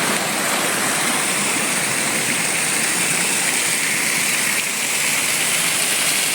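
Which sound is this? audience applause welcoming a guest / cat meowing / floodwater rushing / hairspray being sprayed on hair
floodwater rushing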